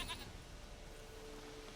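Goat bleating within The Witcher video game, a brief call near the start over a steady ambient game soundscape, with no talk.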